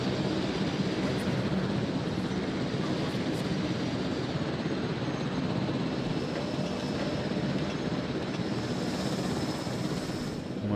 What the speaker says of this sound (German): Dann nehmen wir den Apu-Heli.